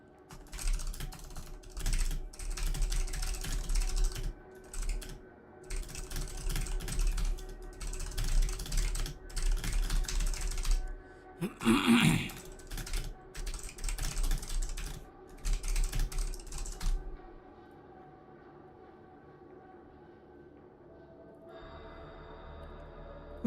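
Rapid bursts of computer keyboard typing, quick clustered keystrokes coming in fast runs with short pauses, close and fairly quiet, before it falls silent near the end.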